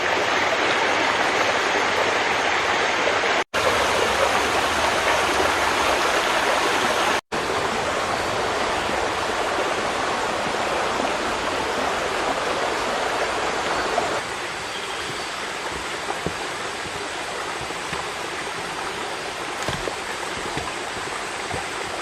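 A river flows beside a solo campsite on Bukit Guling hilltop as a loud, steady rushing of water that continues without a break, with no voices.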